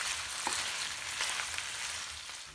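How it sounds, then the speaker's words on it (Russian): Pork sizzles in oil in a pan with a steady, bright frying hiss, close and continuous, with a few faint clinks. "капаем еще немного масла и жарим по новой"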